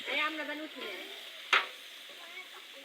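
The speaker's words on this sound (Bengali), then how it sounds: "রান্না করছে রান্না করছে বড় ভাই মাসুদ ভাই" Khichuri cooks in a big pot at an outdoor Pohela Boishakh picnic, with a soft continuous sizzle, one sharp clack of the spoon and faint voices in the background.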